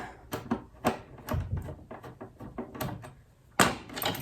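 A corner kitchen cabinet door is taken off during a hinge replacement, producing a busy series of close wooden knocks, clicks and clatters in irregular bursts, with one sharper bang near the end and no voices.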